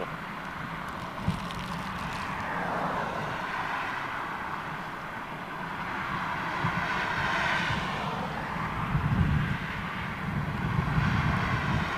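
A military jet takes off at RAF Fairford, a sustained distant engine roar that swells and fades in waves over several seconds with no talking.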